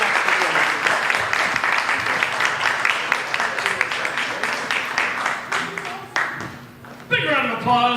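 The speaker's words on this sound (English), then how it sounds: "Big round of applause for Jacob Baker" A comedy open mic crowd at Camp Bar breaks into dense, steady applause for the comedian, with voices talking over the clapping before it thins out near the end.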